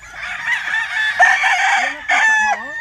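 A gamecock bull stag rooster crows loudly and close by, two drawn-out cock-a-doodle-doo calls in quick succession with a faint voice in the background.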